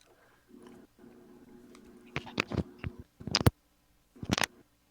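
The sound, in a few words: person chewing near the microphone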